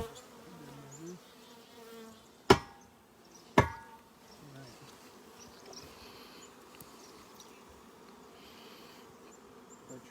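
Honey bees buzzing around an open hive during an inspection, a close, continuous drone with shifting pitches as bees fly near, broken by two sharp knocks of a hive tool or frame.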